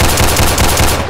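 Rapid gunfire from a Tech 9 in a Roblox hood game, a loud, close burst of quick repeated shots rattling for about a second with no talk over it.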